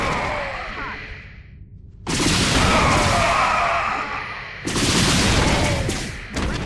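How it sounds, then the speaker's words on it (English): Missile strikes from cloaked Banshees hitting clustered Marines in StarCraft II: loud booming explosions with whooshes and crackling bursts that arrive in waves, one near-continuous blast followed by a second and a short third. "we're going to cloak our Banshees and engage them with our area effect missiles"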